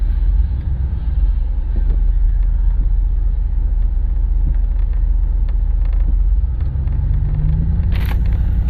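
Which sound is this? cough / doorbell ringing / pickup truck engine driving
pickup truck engine driving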